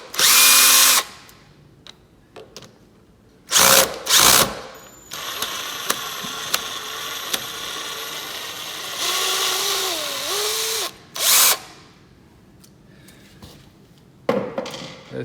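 A power drill whirs in several short bursts while backing out the screws of a door deadbolt during a Nest x Yale smart lock installation, with quieter clicking and handling noise between the loud spins.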